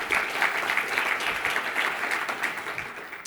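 Audience applause at a talk on creatives and mental health, dense, even clapping from a crowd heard throughout, with a faint voice briefly underneath.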